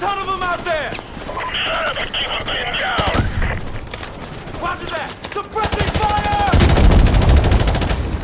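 Soldiers fire from the windows of an open room in a Call of Duty Modern Warfare Remastered battle, with loud, sustained bursts of automatic gunfire and heavy shots over busy combat noise, steadily building throughout.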